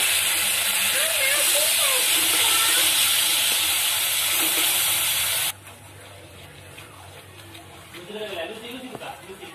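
Kashmiri chili spice paste fries in a pan with a little water and released oil. A loud, steady sizzling hiss cuts abruptly to quieter bubbling and crackle, with a voice talking faintly.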